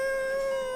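A man imitates a dog on his knees, his voice giving one short, sustained, howl-like bark that is close and fairly loud.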